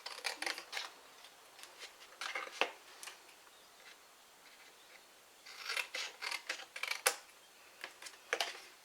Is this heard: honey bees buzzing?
no